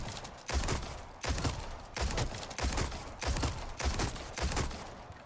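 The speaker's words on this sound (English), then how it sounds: "The sound for this weapon is my favourite firing sound out of any of the pistols in the game." A pistol fires in the Resident Evil 4 Remake game, seven sharp shots at an even, unhurried pace, each with a short decaying tail and no voices.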